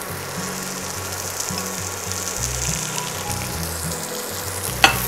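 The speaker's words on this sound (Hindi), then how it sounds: "बस प्याज कैरमलाइज हो जाए" Chopped onions sizzle and fry steadily in hot oil in a pan, browning to caramelize for a spiced chicken burger, with a continuous close crackle and a single louder pop near the end.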